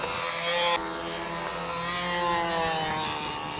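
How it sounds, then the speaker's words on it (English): A Boeing B-17 bomber drones overhead on a flyby at a model aircraft meet, its propeller engines a steady harmonic hum that swells slightly as it passes, distant and continuous without talk. "Right during Ken Tice's flight, we got a B-17 flyover coming."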